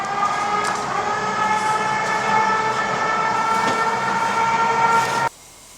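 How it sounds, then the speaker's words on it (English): Restored model steam engine running: a steady, loud tonal hum with a whistling, train-like quality that holds evenly for about five seconds and then cuts off abruptly. "It's making steam engine noises."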